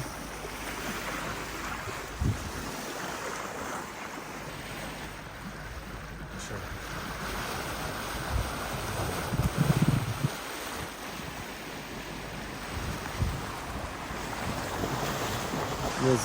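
Waves wash and slap against a sailing boat's hull under steady wind rumble on a passage from the Maldives to Sri Lanka, with a few heavier splashes midway and no talking.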